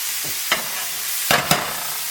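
Onions sizzling steadily in a pan, with a few short scraping stirs of a spoon, close and alone without speech.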